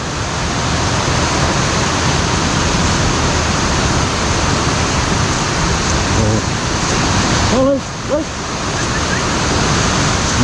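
Ocean surf washes up on Kuta Beach as a loud, continuous roar of breaking waves, nearby and steady, with a brief dip and a few faint voices near the end.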